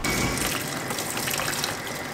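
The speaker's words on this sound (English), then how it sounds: "washing it out here in the water" A bag used for freshly caught fish is washed out in water on a windy fishing trip. The water gushes and splashes steadily and loudly, close by, with no talking.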